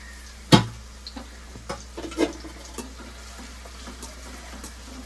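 Prawns with green chillies, tomato and curry leaves frying in a pan with onions, a faint low sizzle broken by a sharp scrape of stirring and a few light clinks and taps.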